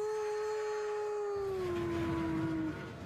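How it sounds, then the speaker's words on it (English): A passing train's whistle holds one sustained, fairly loud tone, then slides noticeably lower in pitch partway through as it goes by, fading at the end, with no speech. "You hear the train whistle sound like this."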